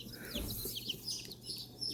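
Meat-bird chicks delivered by mail cheep continuously in high, overlapping peeps, close and fairly faint, with no one talking.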